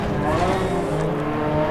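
A 400-horsepower Ford Fiesta World Rallycross car's engine in a Codemasters racing game, a loud, steady, high-revving drone with no gaps.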